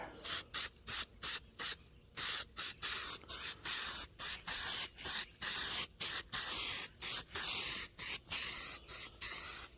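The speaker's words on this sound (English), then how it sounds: "So we're gonna paint this sucker." Spray paint is applied to enclosed-trailer cables in about two dozen short, rapid hissing bursts of aerosol, one quickly after another, with brief gaps between them and a quiet outdoor background.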